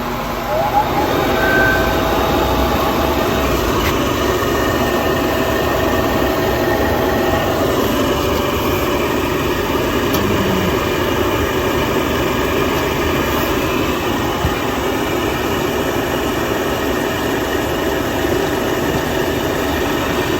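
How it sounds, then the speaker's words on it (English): A Pentair MasterTemp 250 gas pool heater with a faulty AGS sensor starts up, putting out a loud, steady whooshing roar that runs unbroken from start to finish. "I'm gonna start up my pool heater here and see if we get gas flowing"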